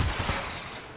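Gunfire in the Apex Legends video game on Kings Canyon, a brief loud cluster of shots at the start that decays into a rough, noisy wash within a second.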